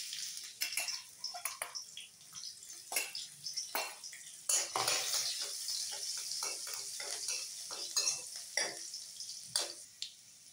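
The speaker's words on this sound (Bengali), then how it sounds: "কালো জিরে আর রসুনটা একটু ভেজে নেবো প্রথমে" Black cumin and garlic fry in oil in a pan, a soft, low sizzle under repeated sharp clinks and scrapes of a utensil against the metal, irregular and fairly quiet.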